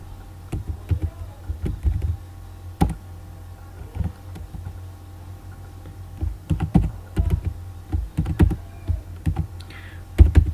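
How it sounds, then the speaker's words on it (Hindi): Fingers tap on a computer keyboard while data for an HTML table is typed, giving irregular bursts of close, crisp key clicks separated by short pauses, with no talking. "इसको अब मैं इधर दोबारा डाटा टाइप करने लगा हूँ"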